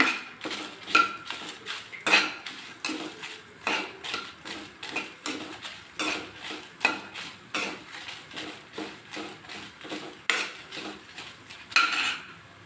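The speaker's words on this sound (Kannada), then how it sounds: "ಧನಿಯಾ ಒಂದು ಸ್ಪೂನ್ ಹಾಕ್ತಾಯಿದ್ದೀನಿ ಜೀರಿಗೆ ಅರ್ಧ ಸ್ಪೂನು ಬ್ಯಾಡಗಿ ಮೆಣಸಿನ್ಕಾಯಿ ಐದು ತಗೊಂಡಿದ್ದೀನಿ ಈಗ ಇದು ಹುರ್ಕೊಳ್ಳೋಣ" A spoon stirs coriander seeds, cumin and Byadgi chillies as they dry roast in a pan, giving a steady rhythmic series of close metallic scrapes and clinks, with no voices.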